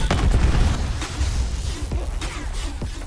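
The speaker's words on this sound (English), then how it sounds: "Cluster grenade inbound." A cluster grenade going off in a first-person shooter video game: a deep rumbling boom, then a scatter of sharp secondary pops and bursts that trail off, loud and close.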